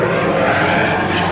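An airplane passes overhead in a short burst of loud, steady engine drone, a broad continuous roar with no voices on top.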